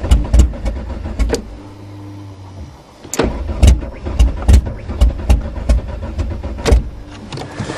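A Ford Topaz cranks over on a cold winter start, giving a series of sharp, loud mechanical bursts and clunks in an uneven rhythm with short pauses, close by and without talk.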